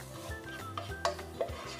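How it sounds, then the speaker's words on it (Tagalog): Onion and garlic being sautéed in a little oil in a clean pot: soft stirring scrapes and metallic clinks of a utensil against the pot, quiet and close, with no voices. "Magisa ng sibuyas,"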